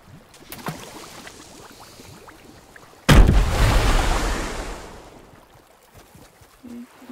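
A grenade blast erupts in water during fishing in a video game: light splashy clicks, then one sudden loud boom that rumbles and fades over about two seconds.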